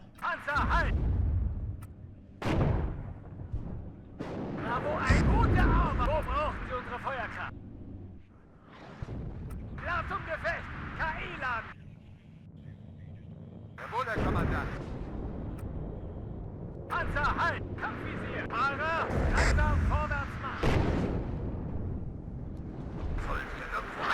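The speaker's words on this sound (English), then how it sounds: "A lot of artillery." Artillery fire in the WARNO real-time strategy game: repeated heavy booming impacts scattered through a battle soundscape, some close and loud, others distant, with someone talking over much of it.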